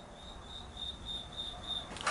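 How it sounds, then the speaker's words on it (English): Crickets chirp in a quiet indoor setting as a faint, high, evenly pulsed trill repeating about twice a second, with no voices over it. "Stop it with the crickets."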